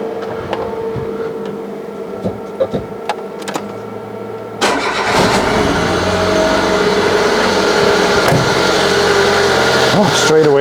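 Citroën BX engine cranking and starting up about halfway through, then running steadily and fairly loud with a noisy hydraulic pump whine layered over the mechanical clatter, an exhaust extractor likely running nearby.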